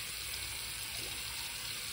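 Cold tap water runs steadily into a sink for rinsing after a traditional wet shave, a constant close hiss with no pauses.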